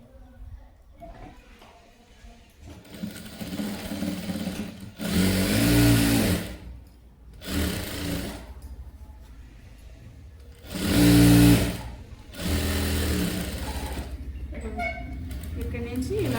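A sewing machine stitches a saree into a dress in several loud whirring runs separated by pauses, close by, with someone speaking between and around the bursts.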